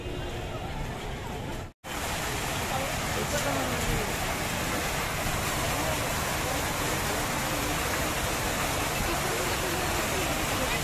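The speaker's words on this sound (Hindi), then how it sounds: "यहाँ देखिए कितना अच्छा यहाँ पे झरना जैसा गिर रहा है" Outside Sealdah station, water pours down like a waterfall in a dense, constant rushing hiss that is interrupted once by a brief cut early on, with a faint voice mixed in.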